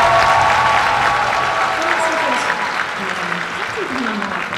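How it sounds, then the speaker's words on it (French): Crowd applause at a cosplay convention pageant as the first contestant for Miss Polymanga is introduced, dense clapping loud at first then easing slightly, with faint voices underneath. "Vous pouvez l'applaudir."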